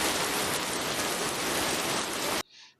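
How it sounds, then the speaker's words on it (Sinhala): Steady, dense rainfall hisses evenly for a couple of seconds, then cuts off abruptly into near silence. "වැස්ස, මழை."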